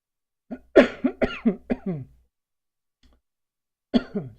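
A burst of several rapid, harsh coughs from irritated bronchi in quick succession, then a pause and two more coughs, close and loud.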